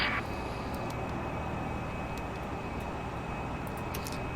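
Jet engine noise in a flight simulator at startup, a steady broadband roar with a thin sustained whine above it that holds evenly throughout, with no voices.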